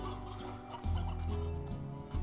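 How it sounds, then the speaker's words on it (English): Chickens in the video game Slime Rancher, clucking and squawking close up in short overlapping bursts over a steady background hum. "Alright, we got a good bit of chickens."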